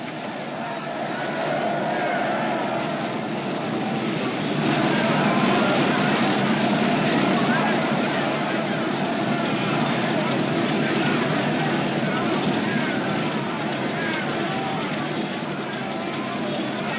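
Aged propeller airplane engine droning steadily and loudly throughout, a continuous broadband roar that swells slightly midway, with no talk over it.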